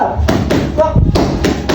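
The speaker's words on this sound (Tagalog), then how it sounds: "Kung maririnig nyo nga, sobrang lakas ng lagabog ng kada suntok niya." Heavy, rapid thuds of punches landing in a boxing exchange, loud and close, repeating in an irregular rhythm over a noisy background.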